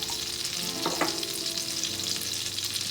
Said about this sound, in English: I'm gonna add in my pepper flakes.